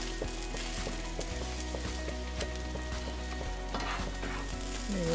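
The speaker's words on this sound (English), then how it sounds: "Now I'm going to add my spinach." Spinach added to a hot pan with cauliflower gnocchi, chili pepper flakes and asparagus sizzles and crackles continuously, a dense, close frying hiss with occasional stirring scrapes and a low hum underneath.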